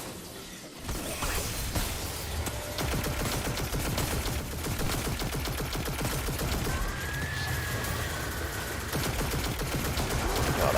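Rapid automatic rifle fire in Destiny 2 Shadowkeep, a long continuous burst of closely spaced shots that is loud and near, with occasional mechanical clicks and whooshes.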